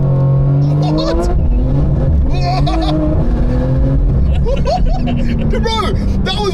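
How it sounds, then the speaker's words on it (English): Porsche 911 sports cars, a 991 GT2 RS and a twin-turbo 992 GT3 RS, launch hard with a loud, rising engine roar heard from inside the car, while excited voices talk and shout over it throughout. "Bro, that was launching like a turbo S at the beginning."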